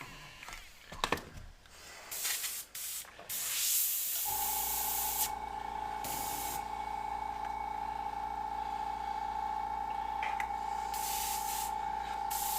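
Aerosol spray paint hisses from a can in short bursts, then a steady continuous spray runs for about eight seconds with a faint tonal whine underneath.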